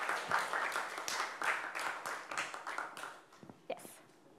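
A lecture audience at a mathematics talk on Heegaard Floer homology applauds, a steady patter of many hands clapping at moderate volume that gradually thins out toward the end.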